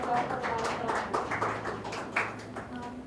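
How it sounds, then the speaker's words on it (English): An audience at a best-practices forum applauding the mayor, a steady round of clapping throughout, moderately distant, with voices over it. "We give another warm applause to Mr. Mayor Ortega, please."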